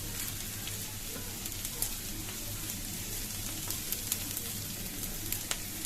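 Onion frying in oil for a chapa shutki (dried fish) bharta, a steady dense sizzle with faint crackles running evenly throughout, no voices over it.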